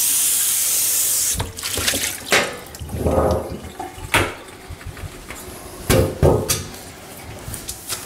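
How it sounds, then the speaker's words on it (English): Tap water running briefly to wet a metal cookie sheet in a kitchen before laying parchment on it, a short rush of flow followed by clattery handling of the pan and a few splashes. "So you just wet your cookie sheet and then you put your parchment on."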